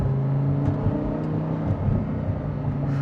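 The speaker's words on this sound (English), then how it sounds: "I also love how quickly an engine like this is able to rev." Audi R8 V10 Plus with a naturally aspirated V10 and gated manual gearbox, engine droning steadily with a dense mechanical whir, close and loud, with slight rises in revs and no talk.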